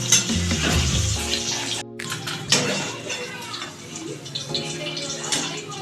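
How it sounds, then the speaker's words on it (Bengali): Chicken pakora fries in reused oil with a close, crackling sizzle that swells and fades, along with some clinks of utensils and occasional talking. "ওই তেলেই ভেজে দিচ্ছি"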